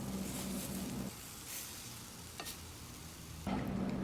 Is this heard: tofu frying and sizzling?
yes